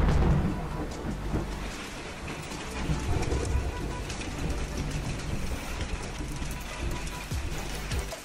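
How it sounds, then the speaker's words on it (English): A hailstorm in Texas pounds a Tesla solar glass roof with ping-pong to golf-ball sized stones, giving a steady, dense roar of impacts that stays loud throughout, with no voices. "y'all got a major hailstorm"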